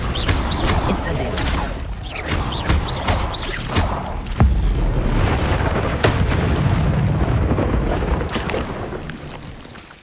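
Spell blasts and heavy booms erupt in a Hogwarts Legacy duel, the fiery Incendio burst among repeated loud thuds and crackling impacts, with a voice shouting over the combat.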